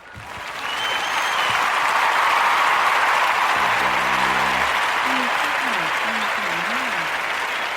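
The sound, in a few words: audience applause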